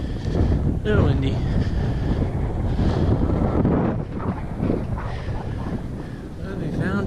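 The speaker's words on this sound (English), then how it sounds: "Little windy." Loud wind buffeting the microphone, a heavy low rumble with gusts throughout, and some indistinct voices beneath.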